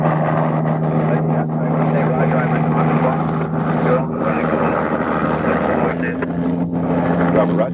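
An aircraft flies in explosive powder for the first shots of a 1994 seismic survey at Sioux Pass, giving a loud, steady droning roar throughout while voices talk over it.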